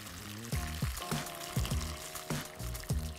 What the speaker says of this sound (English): I'm gonna add water, hot water.